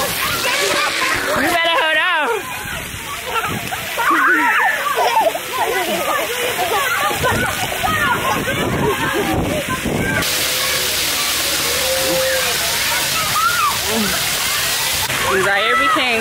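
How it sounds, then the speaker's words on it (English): A child splashes and swims in water outdoors, with continuous sloshing and splattering throughout, while people talk and call out over the watery noise. "Look who's playing in the water."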